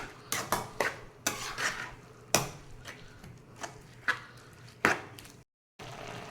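Ginger garlic paste sautéing in a pan for prawn gravy, stirred with a utensil that scrapes and clinks against the metal in repeated sharp strokes at an irregular pace, close and fairly loud, with a faint frying hiss underneath.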